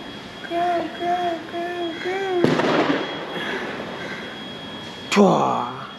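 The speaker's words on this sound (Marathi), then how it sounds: "फटाका कसा वाजतो?" Diwali firecrackers go off outdoors: two sharp, loud bangs a few seconds apart, each with a crackling tail. Before them, a voice makes short tonal sounds.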